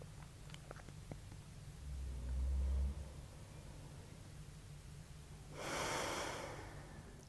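Slow deep breathing during an evening yin yoga session, two drawn-out airy breaths several seconds apart, close to the microphone over a low steady hum, with no talking.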